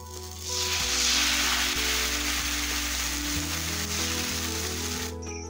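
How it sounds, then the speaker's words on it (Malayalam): Neer dosa batter, a thin rice batter, poured onto a hot pan, breaking into a loud, steady sizzle that swells quickly and holds for several seconds before easing off at the end, with no voices. "ഇനി നമുക്കിതിലേക്ക് ഓരോ തവി മാവ് ഒഴിച്ചു കൊടുക്കാം."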